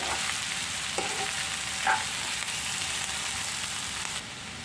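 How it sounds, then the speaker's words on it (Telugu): Ridge gourd pieces stirred into a pan of dry prawns, sizzling steadily and close, with a couple of brief spatula scrapes and clinks against the pan and no voices. "ఇప్పుడు మనం బీరకాయ ముక్కలు వేసుకుందాం బాగా కలుపుకుందాం"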